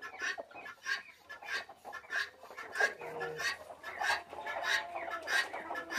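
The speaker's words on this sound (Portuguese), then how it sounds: "Tem uma galinha de pintinho com as angolinhas." Chickens cluck in short repeated bursts close by, a busy irregular clucking chorus from several birds, a hen with chicks among guinea fowl.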